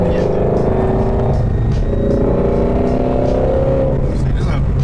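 A sports car engine drones and revs steadily throughout as the car is driven, with shifting pitch and rising tones, loud and close, while people talk faintly over it.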